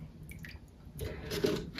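Water trickles and drips as it drains out of a sansevieria pot after immersion watering, with soft splashing and squishy wet sounds that grow a little fuller toward the end, close and quiet.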